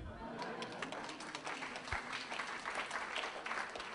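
Clapping spreads through an audience at a talk on the history and art of drag, a few seconds of lively, uneven applause with some talking underneath.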